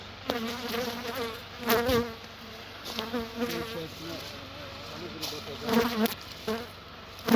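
A steady, droning buzz of many honey bees at a hive fills the air, rising and falling as individuals pass close by.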